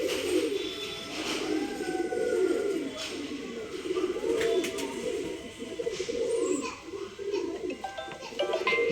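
Male pigeons, offered for sale, coo in low repeated rolling calls close by, with faint background noise and occasional other bird sounds.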